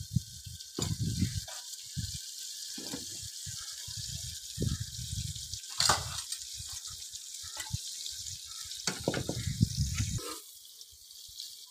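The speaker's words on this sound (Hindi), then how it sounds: "पहले मैं प्याज फ्राई कर रही हूँ। पहले प्याज फ्राई कर लेते हैं" Onions frying in a pan for a Friday meat and rice meal in a home kitchen in Multan, Pakistan: a steady close sizzle runs throughout, broken by irregular louder clatters and stirring knocks.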